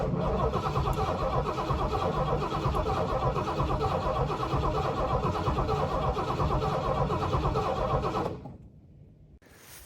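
A 1985 Mustang GT with a stroked 351 Windsor V8 and Cleveland heads, flooding with the coil unhooked, churns loudly and steadily for about eight seconds, then cuts off abruptly into near silence.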